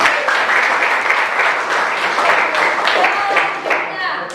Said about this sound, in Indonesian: Oke, tepuk tangan buat Kim Jiu.